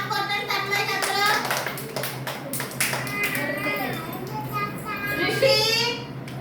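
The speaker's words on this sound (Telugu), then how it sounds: "క్లాప్ కొట్టండి." Young children at an Anganwadi preschool in S. Rayavaram clap their hands during group games, a run of sharp, quick, irregular claps close by, mixed with children's voices and an adult talking.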